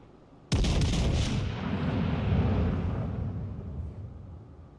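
A battleship's guns fire a heavy naval salvo in World of Warships Legends, one sudden loud boom followed by a long rumbling roar that slowly fades over several seconds; no talk.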